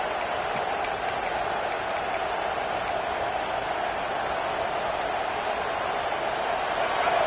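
Broad roar of a stadium crowd at a Michigan versus Notre Dame college football game, a steady distant wash of noise with a few faint high whistles early on.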